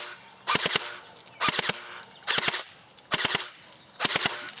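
Airsoft gun firing in five quick bursts of about three sharp shots each, evenly spaced and fairly loud, with no talking over them during a hop-up adjustment test.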